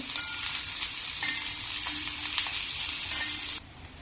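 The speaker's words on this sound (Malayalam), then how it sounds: "എണ്ണ ചൂടാവുമ്പോൾ ഇതിലേക്ക് കുറച്ച് അണ്ടിപ്പരിപ്പ് 2ആയി പിളർന്നതും ഒരു പകുതി സവാള മുറിച്ചതോട്ട് വഴറ്റിയെടുക്കാം" Halved cashews and sliced onion sauté in hot oil for a soya chaap masala curry, producing a soft, steady sizzle with a few stirring scrapes that cuts out abruptly near the end.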